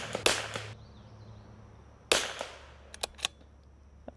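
Two sharp .22LR rimfire gunshots firing knife-shaved bullets, spaced about two seconds apart outdoors, each a crisp crack with a short tail, followed by faint clicks.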